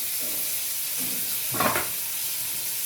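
Onion hits a frying pan already holding ajwain (carom seeds), giving a steady close sizzle with a sharp, louder burst of frying midway that settles back into a soft hiss.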